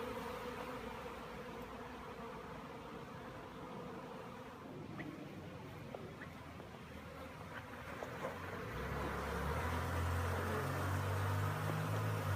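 Honeybees hum steadily on grass after a swarm, a soft continuous buzz with occasional louder passes, joined near the end by a low engine-like drone.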